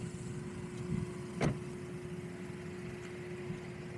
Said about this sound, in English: The engine in this car is very quiet.